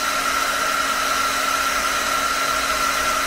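A hair dryer blows steadily at close range to dry a painting made with coffee, a constant whirring roar with a high tonal whine and no pauses or speech.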